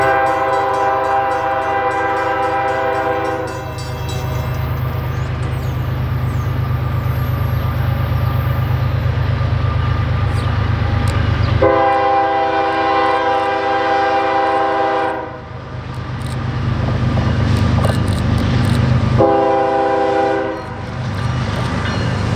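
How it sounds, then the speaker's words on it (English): A freight train rumbles steadily past a defect detector up close in Moosic, Pennsylvania, its loud horn sounding in three long blasts separated by pauses, over continuous wheel and engine noise. "We caught the train as it rolled past the defect detector at Main Street"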